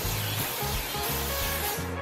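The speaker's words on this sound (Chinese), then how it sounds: "均匀的喷洒全脸" Sunscreen spray misted over the face from about 10 to 15 cm away, a steady airy hiss with rhythmic rubbing pulses, close and continuous with no talk.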